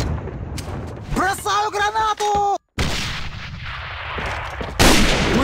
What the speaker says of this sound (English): taking out the scope with a quick couple of Glock shots